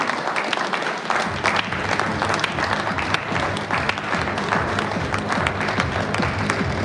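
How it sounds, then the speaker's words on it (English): Sustained audience applause at a university engineering college alumni event as an elderly alumnus is invited onto the dais, dense steady clapping from a hall full of people, with a faint voice underneath. "A huge round of applause"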